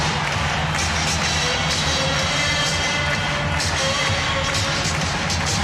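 Broadcast crowd at a 1993 NBA playoff game 7 between the Suns and Sonics in a basketball arena, a continuous loud roar of cheering with no pause across the whole stretch.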